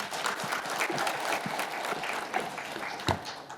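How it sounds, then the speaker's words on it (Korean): Audience at a Seoul policy forum clapping to welcome a presenter to the stage, a brisk, even round of applause with a few louder individual claps standing out. "큰 박수로 맞이해 주시기 바랍니다."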